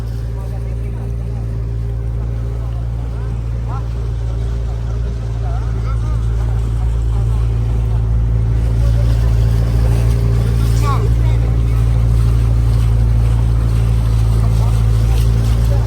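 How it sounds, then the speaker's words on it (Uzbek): A boat motors across Shohimardon lake, its engine giving a steady, loud low drone with a constant hum and faint water wash, unchanging throughout. "Xullas o'sha Shoh Mardoni ko'lidagi mana qayiq"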